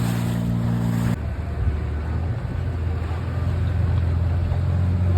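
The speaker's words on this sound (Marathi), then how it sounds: "त्याच्यातून बोट जाणार आहे आता खालून, पलीकडून येणार आहे" A boat motor rumbles steadily nearby on the water beneath an old British-era lighthouse on the Konkan coast, a low continuous drone with wind and no speech.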